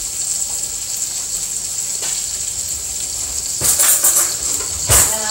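Water cooking linguine in a pot on the stove, a steady hiss of bubbling with occasional louder splashy bursts near the end, close and moderately loud, no talk.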